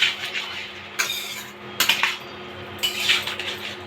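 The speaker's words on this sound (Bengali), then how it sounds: "মাংসটা একটু নাড়াচাড়া করে দেখে নিই। ভালোভাবে নাড়াচাড়া করে দিলাম।" Chicken meat is stirred in a cooking pot, with a spoon scraping and clanking against the metal in three or four short bursts, close up, between quieter stretches of faint sizzling.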